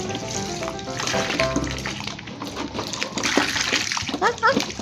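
Toy dropping into a bathtub filled with water and colorful plastic balls, with splashing and sloshing water up close, while a child and an adult talk over it.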